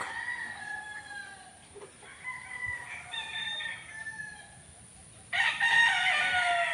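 A broadcock rooster crowing close by, a drawn-out cock-a-doodle-doo call followed by a second louder crow starting near the end, over a quiet farm background.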